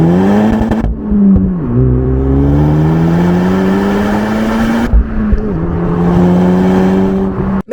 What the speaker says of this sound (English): What kind of exhaust note does this car actually make?